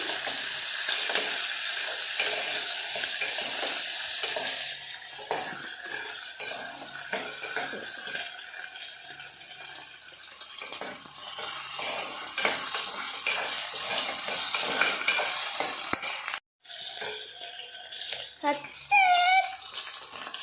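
Diced potato and coriander leaves frying in a pan give a steady broad sizzle with stirring scrapes, faint speech-like sounds mixed in, then a brief drop and a few sharper clinks near the end.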